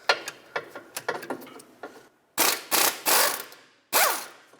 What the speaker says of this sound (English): Now with a 14mm socket, I'm going to unbolt the caliper bracket directly from the knuckle